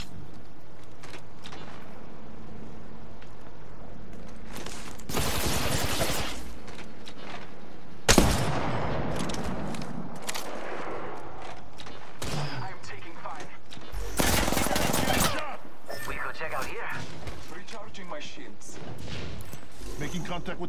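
Bursts of gunfire from a video game firefight crackle repeatedly across the scene, with loud volleys near the middle and end, layered under game voices and radio chatter.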